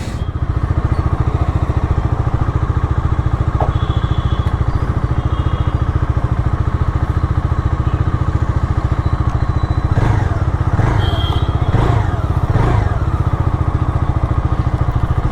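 A Bajaj Dominar 250 motorcycle's exhaust, heard close and loud as a steady, throbbing engine rumble, with a few rising throttle blips near the end.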